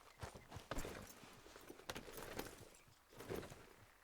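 Horse hooves clip-clop steadily in Red Dead Redemption 2, a near, rhythmic trot of repeated sharp knocks running through the clip with faint background sounds and no talk.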